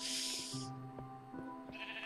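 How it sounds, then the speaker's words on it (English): A sheep in the Minecraft Xbox 360 edition bleats twice, a short nasal call at the start and another near the end, with soft game background tones in between and no talk. "Not a tree, a sheep stuck in a little locating house."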